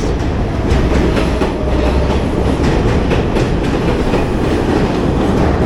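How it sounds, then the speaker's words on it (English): A subway train rumbles steadily across the Manhattan Bridge, loud and close, with rhythmic clacking of wheels on the track and a continuous low roar throughout. "So a train can go across the Manhattan Bridge too."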